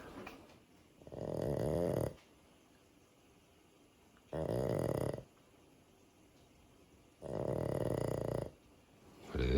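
Three long, slow snores from a dog asleep by a fire, each a few seconds of rumbling breath separated by quiet pauses, close and steady.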